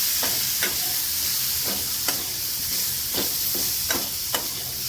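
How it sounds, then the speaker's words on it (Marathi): Vegetables and Maggi masala stirred in a hot pan, with a steady bright sizzle and a series of scraping spatula strokes at an irregular rhythm, close and clear with no talking. "मिक्स करून घेऊया"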